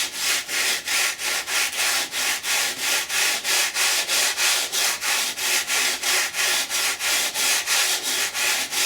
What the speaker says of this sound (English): Sand it now with my fine sandpaper.